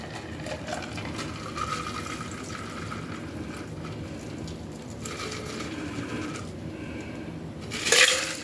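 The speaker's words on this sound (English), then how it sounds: "Strain it into the glass." A margarita strained from a cold cocktail shaker into a glass: a steady low liquid rush and pour runs throughout, with a sharper clink of ice or metal near the end, close and alone.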